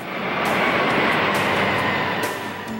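A C-17 military transport aircraft powered by four Pratt & Whitney engines gives a loud, steady, broadband jet roar that fills the whole moment without a break.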